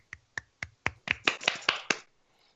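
Nine sparse hand claps from a small group, evenly spaced at first and then bunching closer together, close and fairly loud with short gaps of silence between them.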